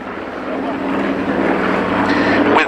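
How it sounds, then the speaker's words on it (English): A C-47 aircraft rolls out at an airshow, its piston engines giving a loud, steady droning rumble that swells slightly as it passes. "That is the second of the two C-47s rolls out."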